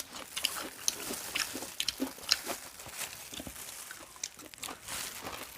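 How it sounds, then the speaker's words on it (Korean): Crispy Kyochon Real Fried chicken is bitten and chewed close to the mic, with irregular crunchy bites and wet chewing at low level and no talk. "이게 좀 겉에 튀김 옷이 좀 바삭바삭해가지고 좀 먹는 식감은 좋았어요."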